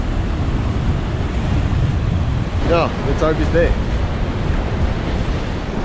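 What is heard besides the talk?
ocean waves breaking at the shore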